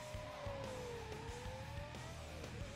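A race car in Need for Speed: Most Wanted (2005) accelerates under steady engine drone, pitch climbing then dipping briefly before rising again, with faint clicks layered over the continuous, moderately quiet roar.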